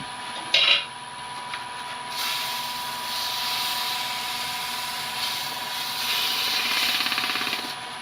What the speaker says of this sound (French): un petit peu de ponçage